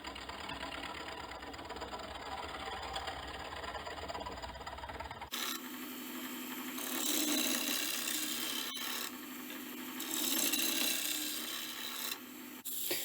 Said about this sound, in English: I could then sand the mallet head from 100 grit all the way up to 2000 grit.